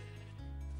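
Sheep bleating in the video game Citywar Beyond: one sustained, wavering bleat, close and fairly loud, heard alone without talk.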